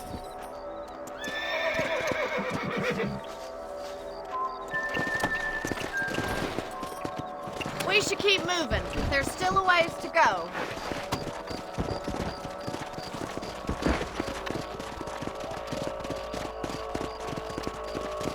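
Horses in the Red Dead Redemption video game neigh and whinny while hooves clip-clop steadily along a trail, close and fairly loud, with someone speaking briefly partway through.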